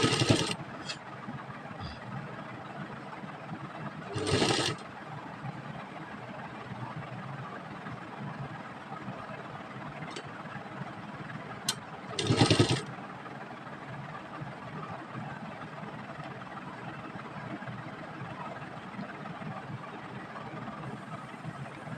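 A sewing machine stitches strips of fabric together for a trouser pattern, giving a steady low mechanical hum throughout with two brief, louder bursts of running, close by and with no talk.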